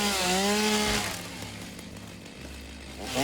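Loud nearby chainsaw cutting wood in the game Satisfactory: a steady high engine whine that bogs down and fades into a gritty idle rumble, then revs sharply again at the end.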